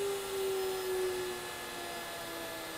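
An 8.7hp Avid CNC spindle runs at high speed with a steady whine that eases slightly lower as it slows toward 12,000 RPM, over a constant airy hiss with no voices.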